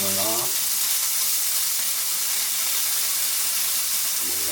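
A pork chop frying in a pan gives a loud, continuous close sizzle with a bright hissing spatter throughout, and a brief voice fragment at the start and the end.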